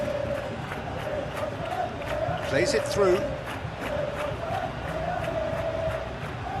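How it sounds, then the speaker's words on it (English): A stadium crowd roars steadily in a football video game simulation of Real Betis versus Barcelona, a broad sustained din with a commentator talking over it. "the crowd clearly like what they just saw"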